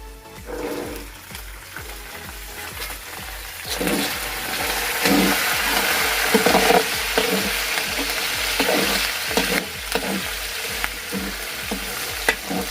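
Peas tipped into a pan of frying fresh green turmeric set off a loud, steady sizzle that swells after a few seconds, with stirring scrapes and clatter running throughout.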